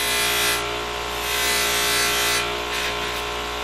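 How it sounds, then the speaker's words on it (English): A metal V-block being deburred by hand with a mild abrasive, giving a steady, continuous rasping rub that swells and eases in slow strokes, close and fairly loud, with no talking. "they work great for taking that little burr off"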